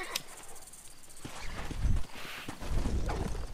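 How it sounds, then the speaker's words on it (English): Horse bucking and throwing its rider in the video game Red Dead Redemption, with heavy hoof thuds and stamping building in bursts, close and loud, along with faint snorting. "I have never broken this horse and not had it throw me at least once."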